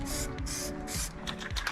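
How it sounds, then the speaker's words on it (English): Bursts of hissing spray paint on a Mazda MX5 rear subframe in a garage, several long blasts followed by shorter quick puffs, close and fairly loud over a faint background hum. "Make sure that the spray doesn't get blown into Jim's bumper."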